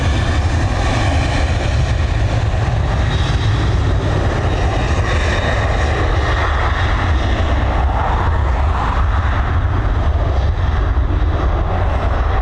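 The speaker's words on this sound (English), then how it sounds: "this Boeing 737, she's heading over to Faro" An 11-year-old Boeing 737 departs Dublin Airport's runway 10R bound for Faro, its jet engines producing a loud, steady, broadband roar that fills the whole stretch without any voices.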